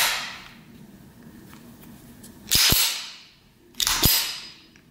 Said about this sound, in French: J'insère dans l'arme le premier chargeur.